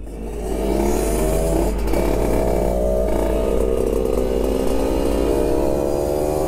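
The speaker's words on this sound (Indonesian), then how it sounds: "Ayo tes motornya Karim." A motorcycle engine, tied to a Kawasaki Ninja RR 150cc and an RX King two-stroke, runs at a steady high idle for a test, loud and close with a buzzing drone after a brief rise at the start.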